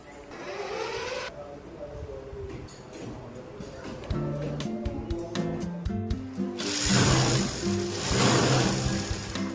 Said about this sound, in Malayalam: 2 സൈഡും ഷോൾഡർ നല്ലോണം ഒന്ന് സ്റ്റിച്ച് ചെയ്ത് കൊടുക്കുക.